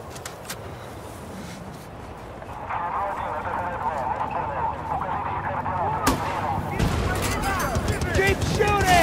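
Gunfire in the video game Battlefield: Bad Company, with rapid bursts and sharp shots crackling under a steady din of battle noise, one loud crack standing out, while voices shout over it.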